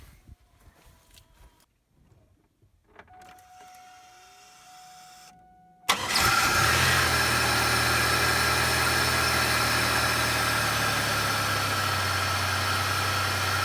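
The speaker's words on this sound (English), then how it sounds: "So clearly the car starts okay." A 2002 Pontiac Grand Prix cranks briefly after some quiet clicks and handling noises, then fires up abruptly and settles into a steady, loud idle that continues to the end.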